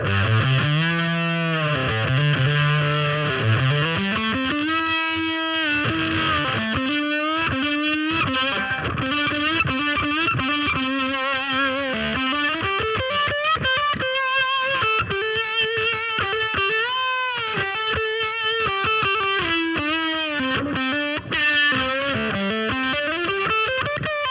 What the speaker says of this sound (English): this Fuzz Octavia thing that he goes into for the lead stuff, and it's just raunchy